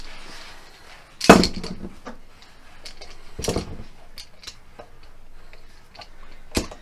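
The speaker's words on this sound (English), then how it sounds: "And then we get the clamp." A clamp being tightened onto a radius block over a guitar fretboard during a Les Paul-style kit build, with sharp ratcheting clicks and ticks, a few louder snaps among softer mechanical taps, close up.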